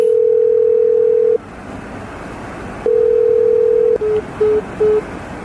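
A loud, steady telephone tone sounds while a call is placed: two long held tones, then three short beeps like a busy signal, close and clear with no talking.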